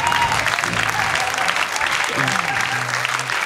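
A studio audience at a television morning show gives a singer a round of applause, dense sustained clapping loud and close throughout, with a voice speaking over it.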